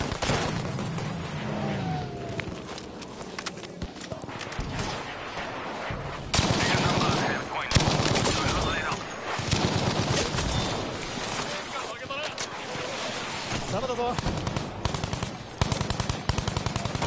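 Sustained machine-gun fire from LMG turrets in the Battlefield V game, rapid bursts rattling continuously with louder spells of shooting, while players talk over the gunfire.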